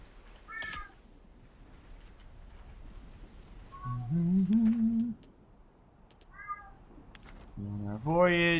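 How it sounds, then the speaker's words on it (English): A cat meows repeatedly in a quiet room, with a couple of drawn-out, rising-and-falling meows and a louder one at the end, separated by near silence and soft rustling. "just meowing because he can"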